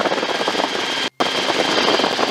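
Helicopter engine and rotor droning steadily in flight during a training approach to runway 36, a loud continuous broadband roar with one brief dropout in the middle.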